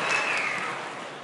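An audience at a talk on the secret language of trees bursts into brief, loud applause, a dense wash of clapping lasting just over a second.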